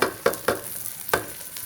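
Rice stirred into fried onions in a pan while cooking pulao, a few distinct scraping, clinking strokes of the spoon against the pan over a faint sizzle, close up.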